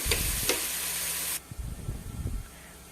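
Sliced onions for a fish biryani sauté in a pan, a loud close sizzle that cuts off abruptly after about a second and a half, followed by a few low knocks and handling sounds.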